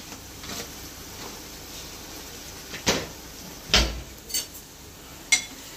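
A spoon stirs masala in oil inside a cooking pot for a Bombay duck (bombil) curry. Sharp metallic clinks and knocks sound a few times over a quiet background.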